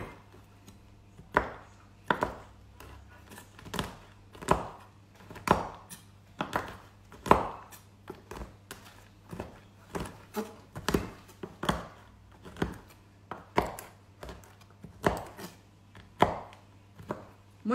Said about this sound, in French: Donc là, on va hacher le chocolat.